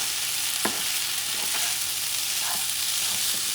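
Chicken fried rice fries in a pan with a steady, close hiss, while a few distinct scrapes and clinks of stirring break through at intervals.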